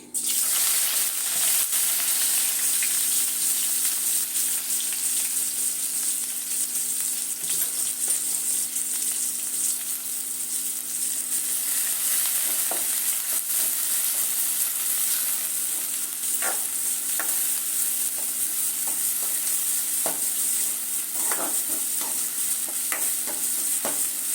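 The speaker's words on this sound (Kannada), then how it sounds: "ಈರುಳ್ಳಿ ಚೆನ್ನಾಗಿ ಫ್ರೈ ಆಗಿದೆ ನೋಡಿ" Chopped onion frying in a couple of spoons of oil in a kadai, with a steady, close sizzle running throughout and occasional stirring clicks and scrapes.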